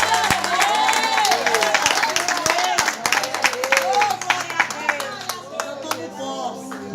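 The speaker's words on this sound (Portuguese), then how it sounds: "Aplauda Jesus." Church congregation clapping and applauding with sharp individual claps over crowd noise, while a voice rises and falls above it, tapering off toward the end.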